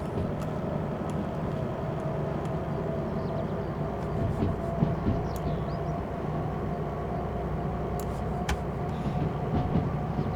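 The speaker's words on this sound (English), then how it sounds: "we're getting a bit of a grinding noise there" Steady, continuous rumble and rolling rail noise from a DH4 diesel-hydraulic locomotive in the Derail Valley train game, with a faint grinding layer and a few sharp high clicks running through the whole stretch.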